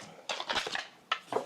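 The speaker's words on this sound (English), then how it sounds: "I'm going to start chopping this cucumber." A knife chops a cucumber on a board in a kitchen, a few sharp cuts in a quick cluster followed by two separate strokes, close and clear.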